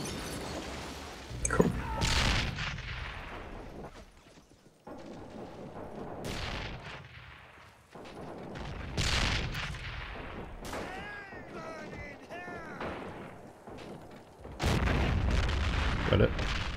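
An artillery barrage in the video game Men of War during a 2v2 match: repeated heavy booms and crashing blasts roll in irregular bursts, some close and loud, others fading, with brief voice chatter between them.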